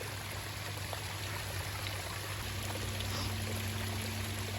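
Continuous rushing water, a broad steady wash of a garden pond waterfall pouring, unbroken and fairly close, with no voices.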